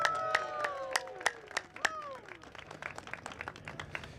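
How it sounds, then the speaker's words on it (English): Applause from the audience at an advocates' rally for congestion pricing: scattered, fairly faint claps with a few louder cracks, loosely spaced rather than a dense roar, with some voices in the crowd and high-pitched tones over the clapping. "I would like to give you all a huge round of applause"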